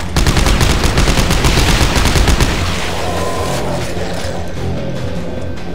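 Rapid gunfire from the video game Dead Space 3 opens the clip as a loud, dense burst of shots. It then stops, leaving a quieter rumbling in-game background.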